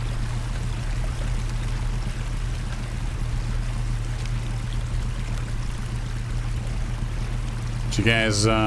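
Continuous rushing water around a vessel in the Professional Ship Simulator game, a steady loud wash with a low hum beneath, ending with a brief burst of voice or tonal sound.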